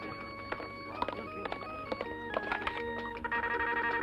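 A telephone in a home during a birthday gathering rings with repeated electronic tones in short bursts, fairly close and moderately loud over a steady background hum.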